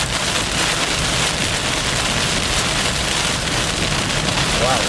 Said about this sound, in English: I encountered some extremely heavy rain.